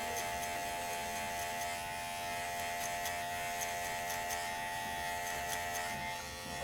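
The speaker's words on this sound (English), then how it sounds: "Close my clipper halfway." Electric hair clippers buzzing steadily while cutting and blending afro-textured hair at a barber's chair, a continuous close-up motor hum with no talk over it.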